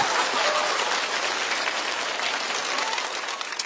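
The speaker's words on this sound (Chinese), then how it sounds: "掌声送给小周。" Steady, dense applause from a stand-up comedy show audience, loud and continuous for several seconds with no voices over it.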